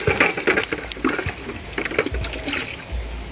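Water poured onto a very dry calamansi plant in a home garden, a steady splashing pour with irregular spatters and gurgles, close and fairly loud throughout.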